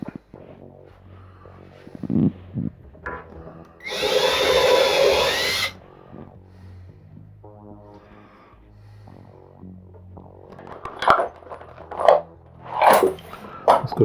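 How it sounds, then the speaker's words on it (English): A power drill runs in one loud burst lasting about two seconds while holes in a bathroom wall cabinet are drilled out, with quieter handling noises and breathing before and after it. "So now I just want to drill this out a little bit so I can get these through there."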